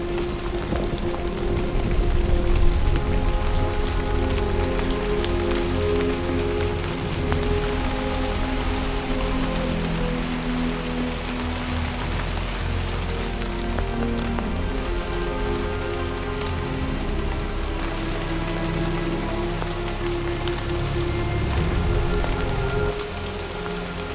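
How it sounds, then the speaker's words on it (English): Steady rain falls on an alpine hiking track in the mountains on the Falls to Hotham crossing, a dense continuous patter with close drips on the surface, fairly loud and even throughout with no talk. "It's been raining all day while Grandma's been hiking up in the mountains."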